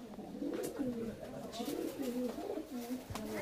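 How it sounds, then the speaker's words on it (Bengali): Pigeons in a loft coo steadily and close by, a layered throbbing murmur of several birds running throughout with occasional wing flutters or clatter. "তো বন্ধুরা দেখতে পাচ্ছ সুন্দর সুন্দর পায়রা।"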